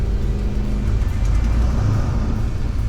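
A car engine revs in a shop project car during a shift into third gear, a loud, close, continuous engine roar with rising pitch.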